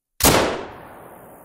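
A single loud gunshot from a drilling combination gun in the hunting video game theHunter, a sharp blast that rings out and decays over about a second.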